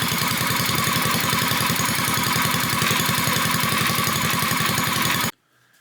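A Predator 212 engine on a Coleman CT100U minibike running steadily after starting, a loud, close, evenly pulsing single-cylinder chug that cuts off abruptly near the end.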